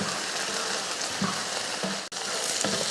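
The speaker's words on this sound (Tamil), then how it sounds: "அந்த வெண்டைக்காய் ஒன்றோட ஒன்று ஒட்டாமல் இருக்கணும் அந்த அளவுக்கு நம்ம இதை வறுத்து எடுக்கணும்" Okra (ladies' finger) fries in a pan with a steady, close sizzling hiss, broken by a few soft stirring scrapes and one brief dropout.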